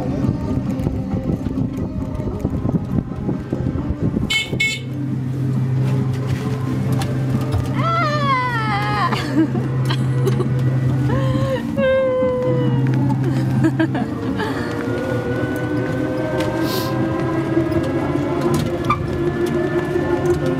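A motorized pedicab runs at full throttle through a busy street in China, its engine droning loudly and steadily under rushing wind and scattered crowd noise.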